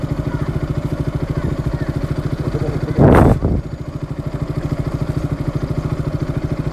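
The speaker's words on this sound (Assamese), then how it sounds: "বাইকখন ইয়াতে পাৰ্ক কৰিলোঁ আমি" A motorcycle idles steadily close by with a regular engine pulse, briefly interrupted around the middle by a short louder burst, then continues idling at a similar level.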